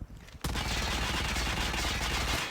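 Sustained automatic gunfire from Call of Duty Mobile, a loud continuous burst lasting about two seconds after a brief quiet lead-in, with no talking over it.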